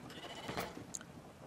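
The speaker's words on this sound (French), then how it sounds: "Parce que seul le grand est assez fort pour porter un mouton." A sheep in the video game Brothers: A Tale of Two Sons gives a short, faint bleat, heard briefly against a soft ambient game backdrop.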